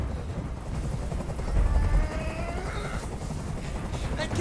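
Helicopter rotor noise in the video game Detroit: Become Human, a steady loud broadband whirr filling the whole stretch with some scattered gunfire-like bursts, faint talk barely present.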